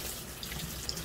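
Running tap water pours steadily into a sink while chicken feet that were blanched for one minute are rinsed for a spicy soup, a continuous close splashing hiss lasting about a second.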